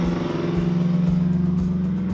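A 1968 Chevrolet Camaro with a fuel-injected 490 cubic inch Chevrolet V8 gives a loud, close, steady rumbling idle with a lumpy, pulsing beat and no one talking over it.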